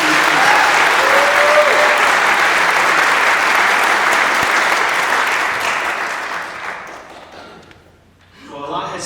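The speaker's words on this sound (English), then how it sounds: "So give those guys one more big round of applause" A large crowd at a Montana suicide prevention event gives loud, sustained applause for the organizers, the dense clapping gradually dying away near the end before a voice begins speaking.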